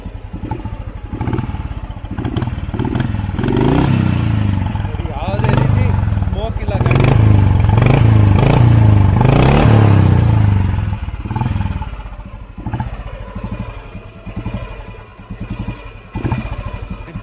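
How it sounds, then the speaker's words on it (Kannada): A 1970 Royal Enfield Bullet single-cylinder engine runs close by with a steady thumping beat, swelling in a few revs before settling back. A voice talks over it much of the time. "ಎಂಜಿನ್ ಸೌಂಡು ಚೆನ್ನಾಗೇ ಇದೆ"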